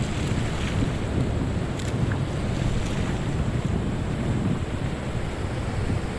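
Sea waves wash onto the rocky shoreline at Nash Point on the Wales coast, a constant loud surf roar mixed with heavy wind buffeting the microphone, with no talking.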